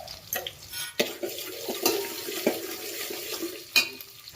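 Water goes into a hot tempering of mustard seeds, chillies, salt and sugar in oil for methi khaman, making splashing, bubbling sounds with a few clanks of utensils, close and fairly quiet.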